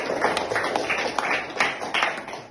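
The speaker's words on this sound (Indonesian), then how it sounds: "Tepuk tangan untuk teman yang sudah menjawab tadi" High school students in an Indonesian classroom clap for a classmate who answered a question, a brief burst of scattered, overlapping hand claps at moderate volume.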